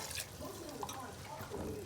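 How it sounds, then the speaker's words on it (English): A cup of water is poured into a pot of palak chicken, a brief, faint splashing pour. "Now I'll add a cup of water"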